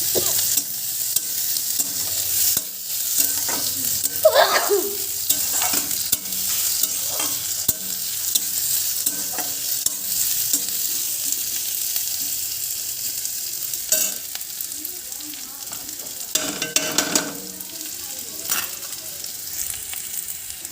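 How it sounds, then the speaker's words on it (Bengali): Ingredients for potato dal sizzle steadily in a hot pan, with a constant frying hiss broken by the scrape and clatter of stirring throughout, and no talk. "এইগুলো একটু ভেজে নেব"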